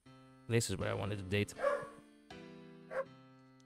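A dog barks in short yapping bursts a couple of times near the microphone, mixed with a person talking and steady background game music.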